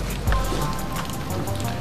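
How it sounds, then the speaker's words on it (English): Light drizzle falling outdoors beside a grill, a fine, steady hiss of small drops pattering on surfaces, with one brief low thump early on and no talking. "It's drizzling."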